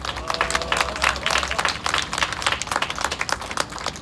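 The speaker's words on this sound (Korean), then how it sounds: "큰 격려의 박수 한번 부탁드리겠습니다" Crowd at a memorial rally for the Aricell industrial disaster victims, organized by labor unions, breaks into dense, sustained applause with scattered clapping throughout, fairly loud and close.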